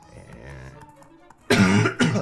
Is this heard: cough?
yes